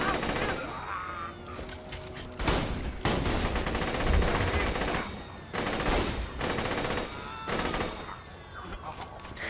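Rapid automatic gunfire from the player's weapon in Borderlands: The Handsome Collection, loud bursts of rattling shots in several volleys with short pauses, along with game effects and a voice talking now and then.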